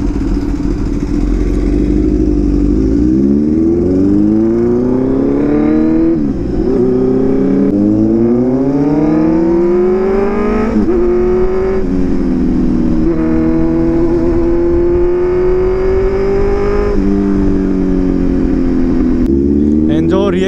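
A superbike engine revs hard and climbs through several gear changes with popping backfires between shifts, loud and close throughout, with a voice talking over the engine.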